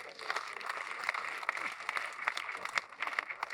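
Light applause from a seminar audience after a live AI demonstration, a thin steady patter of clapping with a few sharper claps standing out, moderately distant and fairly quiet.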